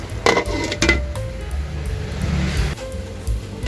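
A metal lid clanks onto a cooking pot of chicken adobo with a couple of sharp clinks, then a low simmering rumble carries on beneath, ending in another light knock.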